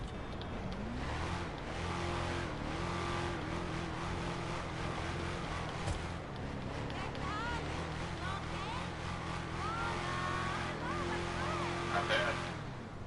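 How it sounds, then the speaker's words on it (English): A race truck engine in GTA 5 drones and revs steadily at moderate loudness, its pitch stepping up and down through shifts, with faint talk and game noise underneath. "It sounds really good too for a race truck. Here, I'm going to try going to game chat real quick so you can hear this engine."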